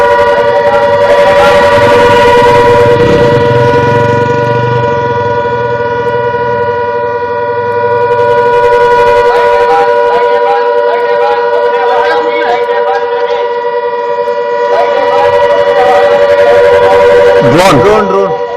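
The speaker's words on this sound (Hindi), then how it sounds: "सायरन की आवाज आप सुनिए" A steady, sustained air-raid siren tone holds throughout, loud and continuous, with voices talking underneath and a brief sharp burst near the end, during a suspected drone attack in India.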